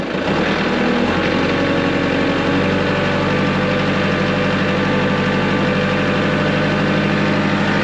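A Kubota tractor engine revving up to about 1,500 RPM, its loud diesel drone rising in the first few seconds and then holding steady and continuous, close and alone without talk.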